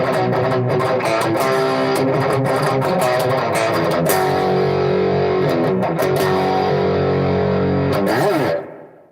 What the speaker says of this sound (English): the distortion from the ME80